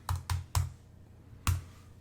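Four crisp keystrokes land on a computer keyboard, three in quick succession and one after a short pause, close and clear in an otherwise quiet room.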